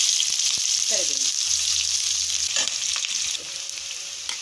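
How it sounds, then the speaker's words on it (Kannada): Oil sizzles steadily in a pan as mustard seeds, urad dal, onion and curry leaves are tempered for an okra chutney, with a bright continuous hiss and a few faint stirring knocks. "ಬೆಂಡೆಕಾಯಿ ಚಟ್ನಿಗೆ ಒಗ್ಗರಣೆ ಕೊಡಬೇಕು. ಎಣ್ಣೆ, ಸಾಸಿವೆ, ಹೀಗೆ ಉದ್ದಿನ ಬೇಳೆ, ಈರುಳ್ಳಿ,"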